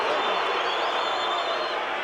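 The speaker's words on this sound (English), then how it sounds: "The crowd is absolutely electric tonight here in Las Vegas." A boxing arena crowd in Las Vegas roars steadily with cheering and applause, a dense, sustained wash of noise from many voices at a distance.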